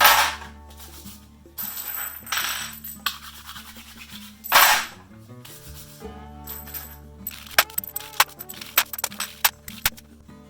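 Gloved hands rub Hornady Unique case lube onto .308 Win brass cases, giving close swishing rubs and bursts of bright metallic clinks as the cases knock together.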